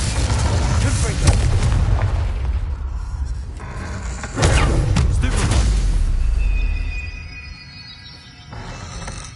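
Confringo blasting spell explosions in Hogwarts Legacy on PS5, heavy booming blasts with rumbling tails, one near the start and a loud one midway, then fading into quieter spell effects.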